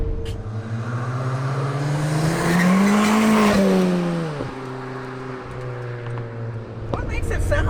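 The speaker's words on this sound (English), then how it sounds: "you're hearing all the induction noise" A big-turbo Ford Fiesta ST fitted with a cowl induction intake roars loud and close, its engine and intake note sweeping up under load then dropping off and building again in continuous revving pulls.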